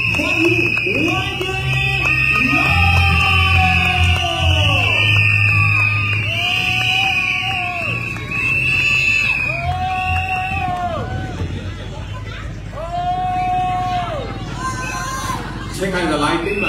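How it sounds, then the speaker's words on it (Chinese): A large crowd at an outdoor evening political election rally cheers and whistles for a speaker, a loud sustained roar of voices with repeated shrill whistle blasts rising and falling over about sixteen seconds. "让我们一起欢呼万米。"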